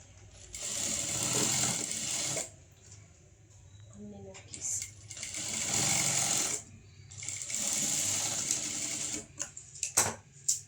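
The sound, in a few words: sewing machine stitching a blouse sleeve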